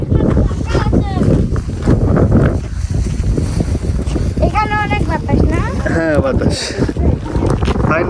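Gusty wind roars and buffets the microphone on a raised bridge over a river, a loud, steady rumble that runs throughout while people talk over it.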